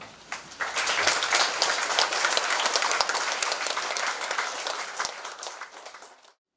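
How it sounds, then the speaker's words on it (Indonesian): Congregation at a religious vows ceremony at the La Mennais Brothers' monastery breaks into applause, a dense, even clapping that starts abruptly, holds for about six seconds and then stops. "Marilah kita tepuk tangan."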